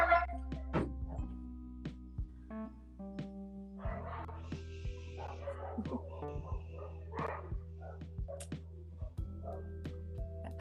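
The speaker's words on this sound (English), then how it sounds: "Oh, those noises of hysteric dog." A husky dog barking hysterically indoors, with repeated sharp yips and whimpering barks in irregular bursts, close and fairly loud, plus a few dull thumps.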